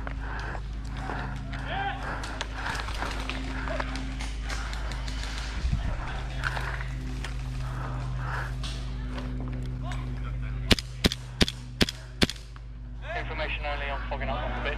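Gas blowback airsoft DMR shots ring out during an outdoor skirmish, a quick series of about five sharp cracks near the end, under steady background noise with players talking throughout.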